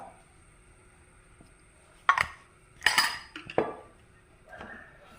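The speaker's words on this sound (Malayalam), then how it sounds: "പാൻ വെച്ചു ഫ്ലെയിം കൊടുത്തു നമുക്ക് അതിലേക്ക് വെളിച്ചെണ്ണ ഒഴിച്ചു കൊടുക്കാം" A cooking pan set down on a gas flame, then coconut oil poured in: a few sharp metallic clanks and scrapes spaced out over a few seconds, close and clear in an otherwise quiet kitchen.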